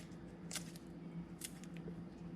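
Scissors cut fresh basil leaves in a kitchen, making two or three soft, close snips over a steady low background hum.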